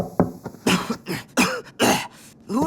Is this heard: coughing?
yes